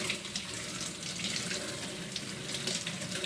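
Steady running water from a tap splashes over a Faber kitchen chimney filter being washed, continuous and close, with no talking.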